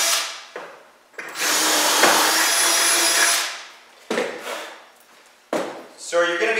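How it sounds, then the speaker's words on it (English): A power drill bores a 1/4 inch hole for a bolt in wood while building a DIY big round hay feeder, a loud close whine of about two seconds, followed by short drill bursts, with someone talking briefly. "And drill my first hole."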